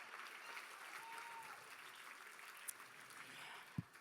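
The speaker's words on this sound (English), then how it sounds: "A bigger round of applause." A benefit event audience claps continuously in a dense, moderately distant wash of applause, with a few sharper claps standing out.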